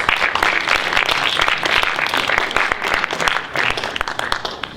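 Audience at a career-readiness panel for students applauds steadily and loudly, a dense wash of many hands clapping throughout with no break.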